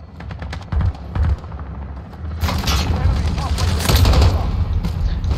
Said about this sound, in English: Chopper can shoot you while you're inside a house.